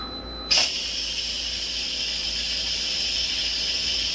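An Instant Pot pressure cooker that has just finished cooking broccoli bursts into a loud, steady hiss of venting steam that starts abruptly and holds constant throughout, with no talking.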